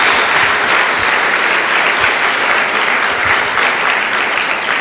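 Worshippers in a Portuguese-speaking church service give loud, steady applause to Jesus, a dense wash of many people clapping together that stays even and close throughout, with no speech over it.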